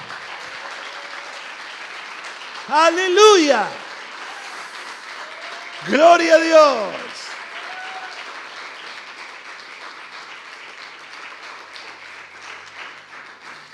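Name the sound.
congregation applauding in church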